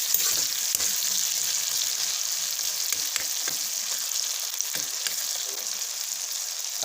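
Potatoes and tomatoes fry in a pan with a steady bright sizzle, while a utensil stirs and scrapes in short scattered strokes close by.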